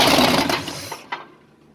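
A Ford 302 V8 in a 1953 F100 truck cranks with a loud, rough whir for about a second, then drops away, followed by a brief second burst as the sound fades.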